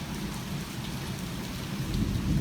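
A strong spring thunderstorm with heavy rain and pea-size hail produces a dense, steady roar of rain on surfaces, with a low thunder rumble building toward the end.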